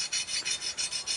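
A sanding block rasps back and forth along the edge of a 1911 pistol jig to deburr it, about seven rhythmic even strokes close up, with no talking.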